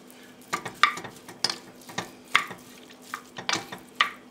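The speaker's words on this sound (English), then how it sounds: "the pork and the sausage are browning up" Pork and sausage links browning in a pan for chili, with a soft sizzle under repeated sharp scrapes and clinks of a utensil stirring the meat, close by and without talk.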